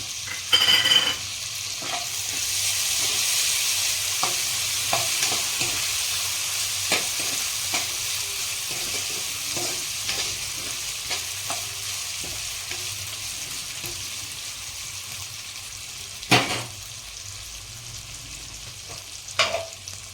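Cut potato sizzles steadily in hot oil tempering for farali moraiyo, a broad frying hiss with scattered stirring clicks and a couple of louder spatters, no voices.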